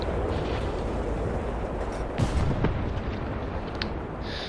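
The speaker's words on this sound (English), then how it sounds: "That's an ammunition detonation right there." A tank's ammunition detonates in War Thunder, a deep rumbling blast with a couple of sharper cracks midway, heard alone and fairly loud over a steady background roar.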